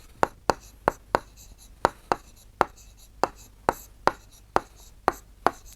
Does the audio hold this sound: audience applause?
no